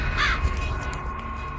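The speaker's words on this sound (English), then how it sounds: "It's a bird." A crow caws once, loud and near, in a horror video game, over a steady droning ambient background with a low thud.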